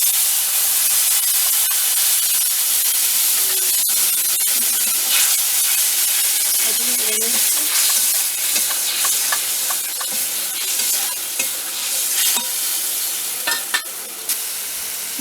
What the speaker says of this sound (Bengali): মাছের মশলা দিয়ে দিলাম